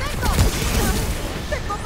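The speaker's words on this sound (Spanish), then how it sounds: "¿Qué son tiros teledirigidos o qué?" Rapid gunfire and booming shots in the video game Remnant: From the Ashes, a continuous dense barrage layered with game effects, with a player's voice faintly underneath.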